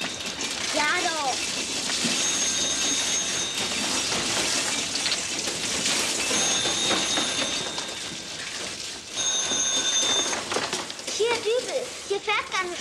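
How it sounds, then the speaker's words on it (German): A running dishwasher gives off a continuous rushing, splashing rumble that stays loud and steady throughout, with voices talking over it. "Was da so kracht, ist die Spülmaschine."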